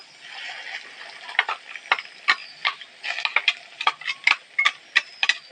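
Onions fry lightly in hot oil in a pan with a paste added, stirred with a utensil that taps and scrapes the pan in quick irregular clicks over a soft sizzle, close and alone.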